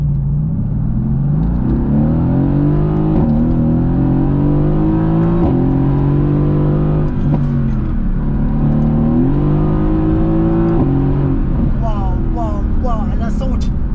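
A Mercedes-AMG GT S V8 revs repeatedly close by, its deep engine note climbing and dropping in several throttle blips over a steady idle rumble, with a few crackles near the end and people talking over it.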